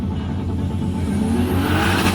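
At a drag race on an airport strip, a 900-horsepower car accelerates with a loud, continuous engine roar that rises in pitch across the short burst.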